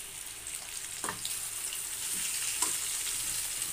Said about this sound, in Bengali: দেখো আলুগুলো আমি এক পিস করে ভাজা হয়ে যাচ্ছে